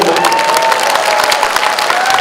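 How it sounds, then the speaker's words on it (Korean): Loud, dense applause from a large audience for an ocarina ensemble at a forum launch ceremony, steady and continuous throughout with crowd noise and a few cheers mixed in. "박수 한번 할까요?"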